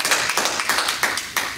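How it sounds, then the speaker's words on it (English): Audience applause welcomes a speaker to the stage, a few loose rounds of clapping with sharp individual claps close by. "Give her a hand."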